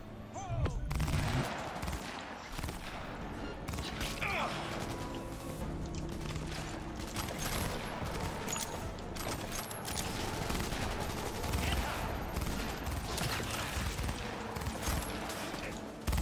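Dense, sustained gunfire from several shooters in the video game Cyberpunk 2077, a steady clattering fusillade of overlapping shots running for the whole stretch with no pause.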